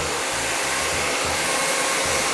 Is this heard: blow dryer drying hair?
yes